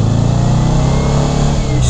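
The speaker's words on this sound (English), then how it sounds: "We're going to accelerate through first gear, second gear, and third gear." A Porsche 356A accelerating hard through the gears, its engine loud and close with a steady, rising mid-pitched drone and no talk over it.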